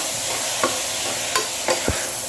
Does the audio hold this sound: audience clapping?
no